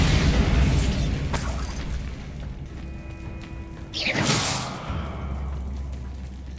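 A Bombarda spell blast in Hogwarts Legacy, a single loud explosive burst with a whooshing crumble that fades over a few seconds amid rumbling game ambience.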